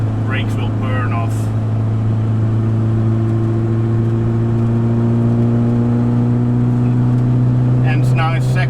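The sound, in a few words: rental camper van engine revving while driving in second gear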